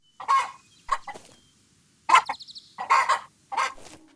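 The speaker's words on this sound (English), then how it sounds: "Here's an example of a cuter creature, a chicken running around in its pen" Hytale video game chicken clucking in its pen, made from real chicken samples mixed with flapping cloth: a series of short, close, clear clucks and squawks in uneven bursts with brief gaps.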